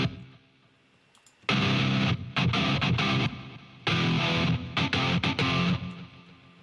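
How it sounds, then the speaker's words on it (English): An electric guitar run through echo and delay effects in a mixing session, loud distorted bursts that stop abruptly and trail off in repeats, with pauses between phrases and no talking. "Yup, that's some echo and delay right there."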